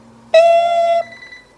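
A kitchen timer on a stovetop steak cook beeps once in a sustained electronic tone lasting under a second, clear and close, with a faint hum beneath and no talk.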